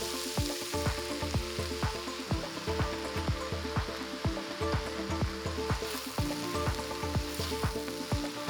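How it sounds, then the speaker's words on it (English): Eggplants fry in a hot oiled pan with a steady, close sizzle, broken by frequent sharp clicks and scrapes as the pieces are stirred; no voices. "Time for the eggplants to go in."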